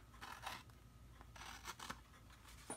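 Scissors snip through a piece of scored card stock while trimming one side off a treat holder: several short, crisp cutting bursts, close and fairly quiet, with no talking.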